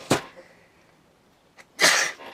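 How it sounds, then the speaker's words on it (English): A sharp sneeze bursts out, followed after a short pause by a second, louder sneeze, close and clear against a quiet room. "I sneezed"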